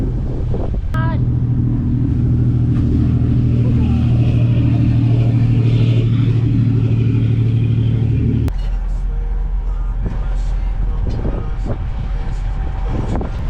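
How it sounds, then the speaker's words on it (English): The Nassau ferry passes near a boat in the shallow waters off Eleuthera with a deep, steady engine drone under wind buffeting. Partway through the drone drops away, leaving wind and water noise. "the ferry that goes to Nassau is coming through"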